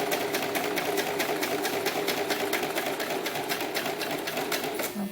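A hand-cranked sewing machine stitches a doll's sunsuit, its needle ticking in a fast, even rhythm that runs steadily and fairly close throughout.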